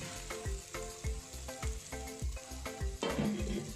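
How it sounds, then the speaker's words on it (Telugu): Fried prawns tipped into sizzling masala in a pan for prawn masala curry, giving a run of close, regular spatula knocks over a steady sizzle that swells louder near the end, with no voices. "ఇలా మసాలా వేగాక ముందుగా మనం వేయించుకున్న ఈ రొయ్యలను కూడా వేసేసుకోవాలి."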